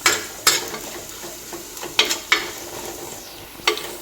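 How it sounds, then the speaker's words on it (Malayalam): Onions turning golden in a pan give a low sizzle under repeated sharp scraping and clinking strokes of a utensil being stirred against the pan. "ഈ ഉള്ളി ഒരു ഗോൾഡൻ കളറായിട്ട് വരുന്നവർ ഇത് നമുക്ക് ഇളക്കി കൊടുക്കാം"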